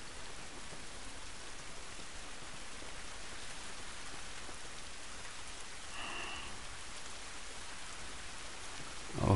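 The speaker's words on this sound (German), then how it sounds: "Dieser Regen ist nicht gut für uns" Steady rain falls in the video game The Last of Us Remastered, a soft, even hiss of drops on surfaces that runs unbroken throughout, with a faint sound near the middle and a short louder noise at the very end.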